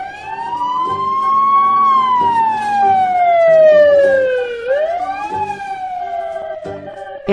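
A fire truck siren wails loud and close, a single tone gliding slowly up and down in long sweeps, with a steady rumbling layer underneath.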